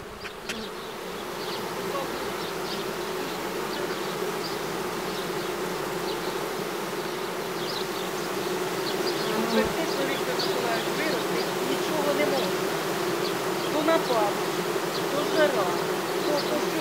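A swarm of honey bees buzzes at an apiary, a dense, continuous drone that swells slightly louder in the second half, heard alone without speech.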